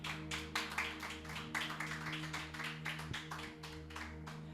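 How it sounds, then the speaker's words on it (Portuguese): A congregation applauds in church during a sermon, with dense, steady clapping that continues through the whole stretch over a sustained low musical drone. "Pode aplaudir o Senhor"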